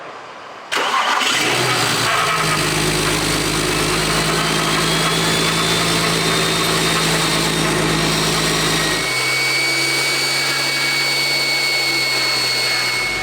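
A BMW 335i with an upgraded turbo cranks and catches sharply, then runs on as a loud, steady close-up drone whose idle note drops and settles near the end, with no talking.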